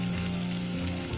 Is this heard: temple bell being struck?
no